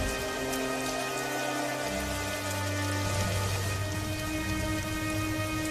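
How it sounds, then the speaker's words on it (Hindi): Heavy rain pours down steadily as a continuous loud hiss, with low rumbling thunder rolling underneath through the middle and end of the stretch. "और देखते ही देखते भयंकर बारिश शुरू हो जाती है।"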